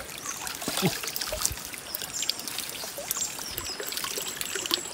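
Water trickles and babbles steadily from a natural spring outdoors, a continuous close gurgling with small splashy accents and no talk.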